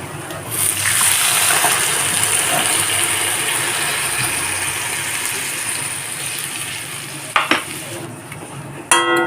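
A watery spice paste is poured over fried mourola fish in a hot pan for a mustard-oil jhal, giving a loud, steady sizzle with brief utensil clatter near the end.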